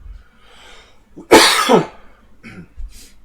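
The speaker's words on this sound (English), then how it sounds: "I hate coughing on the stream" A streamer coughs: a short, sharp burst followed by a second rougher cough, close and loud, with a brief throat rasp after, in an otherwise quiet room.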